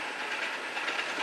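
Steady rushing roar of a metro train passing close by, a continuous broadband rumble and hiss with no pauses and no voices.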